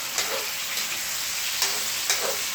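A lunch dish fries in a pan with a steady, close hiss of sizzling oil, broken by a few soft clicks of a utensil, and no one speaks.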